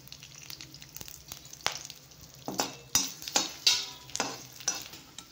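Nagkesar spice roasts in hot oil while being stirred, giving a soft sizzle under a series of sharp scraping and clinking strokes against the pan, close up and irregular, with no voices.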